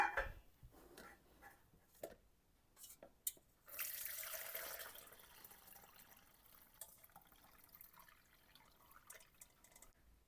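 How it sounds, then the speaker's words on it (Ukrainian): Cooled mackerel marinade is strained, giving a short liquid pour and splash near the middle. Quiet drips and trickles come before and after it, with no talk. "Отже, охолов наш маринад, і нам потрібно його процідити."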